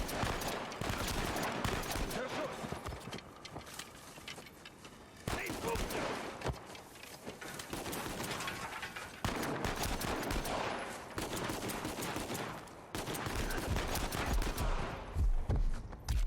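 Constant gunfire from Uncharted 4 fills the scene: dense, loud bursts of automatic and single shots overlap with brief lulls, an intense firefight close by.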